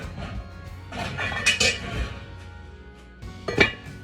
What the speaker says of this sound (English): Let me get my cover out.